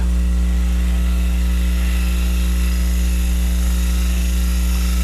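A cupped carbide turning tool cuts wood end grain on a lathe, working from the center outward, giving a steady, loud, continuous whirring and scraping drone with a strong motor hum and no pauses.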